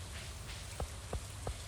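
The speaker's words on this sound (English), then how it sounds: "What do you think of the rain?" Steady soft rain hisses in the Stardew Valley video game, with three evenly spaced low thuds on top of the constant wash.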